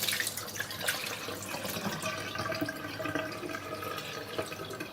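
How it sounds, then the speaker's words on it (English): Dirty rinse water drains off rice in a steady splashing, trickling stream, close and fairly loud, with no talk. "And then you get rid of the dirty water, of course."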